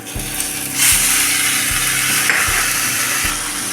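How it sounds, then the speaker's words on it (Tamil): Shredded cabbage is tipped into a pan of lightly sautéed onions for a wedding-style cabbage poriyal and stirred, with scraping, clattering sizzles repeating at a steady rhythm, close and fairly loud, no voices. "வெங்காயம் லைட்டாக வதங்கினதும் நம்ம ஃபில்டர் பண்ணி வச்சுருக்கிற முட்டைக்கோஸை இதில் சேர்த்துக்கலாம்"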